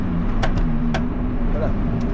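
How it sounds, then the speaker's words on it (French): Clutch pedal of a Lotus Exige V6 350 slapping against its bare aluminium floor, two sharp clacks near the start and middle cutting through a steady droning engine and cabin noise. "Ça c'est le bruit de l'embrayage qui tape le sol."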